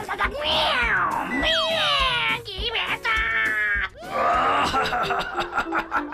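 A cartoon cat in a Bangla children's ghost cartoon gives a string of loud, drawn-out meows and wails, several in a row over a few seconds, with snickering and other sounds between them.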